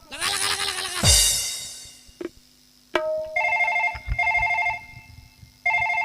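A telephone rings in a Chhattisgarhi folk stage drama, with three repeated bursts of a bright tonal ringtone separated by short gaps. Louder bleating and clatter come before it.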